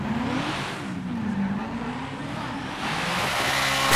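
Camaro SS muscle car in GTA 5 roaring steadily, a low engine note wavering through revs with tire squeal over it, loud and close, building toward the end.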